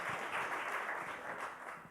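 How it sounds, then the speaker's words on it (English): An audience at a waste industry talk claps in a short, steady round of applause that stays fairly even throughout. "Nice, round of applause, Fran."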